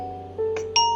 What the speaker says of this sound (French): vous devez normalement entendre le bruit de votre sonnette